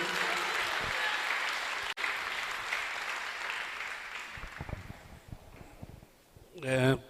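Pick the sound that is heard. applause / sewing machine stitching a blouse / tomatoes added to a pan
applause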